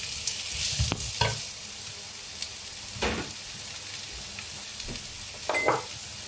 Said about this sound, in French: dès que l'huile est chaude, on va y faire revenir notre courgette